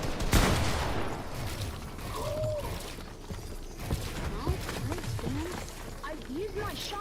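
Shotgun blasts and scattered gunfire pop in a busy video game match, mixed with mechanical clicks, while someone talks excitedly over the action and more voices chatter throughout.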